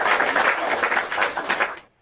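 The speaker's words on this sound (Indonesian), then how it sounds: "Kita tepuk tangan ya teman-teman ya." A crowd at a lively debate event claps together in a dense burst of applause that fades out quickly toward the end.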